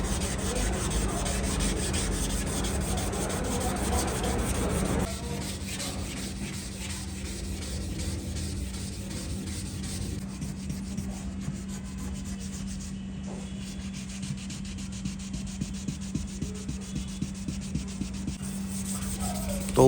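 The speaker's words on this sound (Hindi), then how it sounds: "अब क्वार्टर पैनल पे जो एनसी पुट्टी लगी हुई थी उसको 600 नंबर के पेपर से घिस डालेंगे।" Continuous rubbing of 600-grit sandpaper over body putty on a Ford Endeavour quarter panel during restoration, steady and close with a rhythmic back-and-forth texture toward the end.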